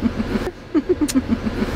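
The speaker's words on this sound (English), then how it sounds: "what we're gonna do is we're gonna take my mom's new Jeep out for a spin" A new Jeep's engine hums steadily while being driven, with rhythmic low thumps from the road and a few brief clicks and rattles in the cabin.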